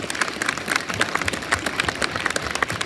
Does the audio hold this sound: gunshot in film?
no